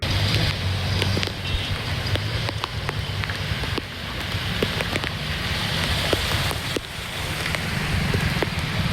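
Continuous heavy rain pours over the city of Bhavnagar, a steady dense hiss with scattered sharp drop impacts on surfaces, close and loud throughout with a low rumble beneath and no speech.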